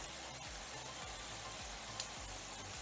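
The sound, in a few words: shrimp sizzling in pan being flipped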